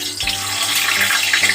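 Cut eggplant pieces dropped into hot oil, a bright hissing sizzle that rises quickly and holds steady and close, with light bubbling crackles throughout.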